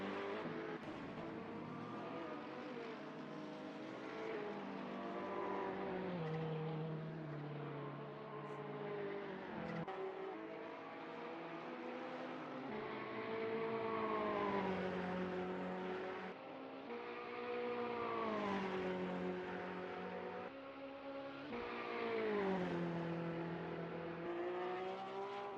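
A race car from a racing video game laps Autopolis, its engine note rising and falling through repeated upshifts and braking, with a steady whine heard alone and fairly quiet.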